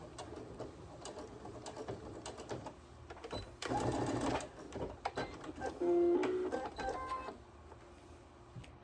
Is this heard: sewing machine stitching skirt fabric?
yes